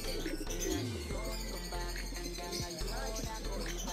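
A pigeon gives a low, soft coo amid a bed of other bird chirps and background noise, fairly close and brief.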